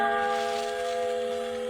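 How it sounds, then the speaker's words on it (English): The Liberty Bell rings as a great bell in a dramatized scene, a loud, sustained metallic tone that hums steadily through the brief moment without voices. "The voice of a great bell proclaiming liberty."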